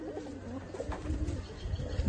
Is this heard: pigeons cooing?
yes